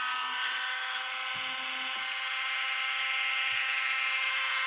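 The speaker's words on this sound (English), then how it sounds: "I'm going to go ahead and drill my hole." A small handheld drill whirs steadily while boring a hole through a pearl for a handmade designer-style earring, a continuous high motor whine held close and even throughout.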